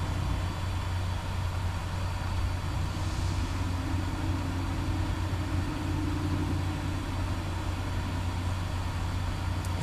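A loaded truck rolls through a scrap yard toward the scale house, with a steady, low engine drone heard from inside the cab, continuous and even throughout.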